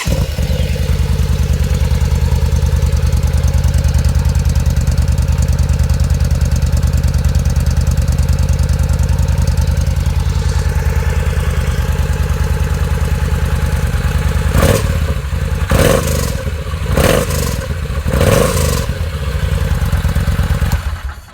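A 2012 Yamaha V Star 950 motorcycle fitted with a Roush slip-on exhaust with 2-inch baffles runs steadily, a loud, deep, throbbing idle held close, with a few sharp throttle blips near the end.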